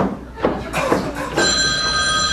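A telephone bell starts ringing in a live drag stage parody of The Golden Girls, entering after a few knocks and bumps as a loud, steady metallic trill that continues to the end.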